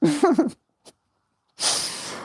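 A single sharp sneeze bursts out after a short voiced lead-in, followed by a pause and then a burst of breathy noise, close and loud.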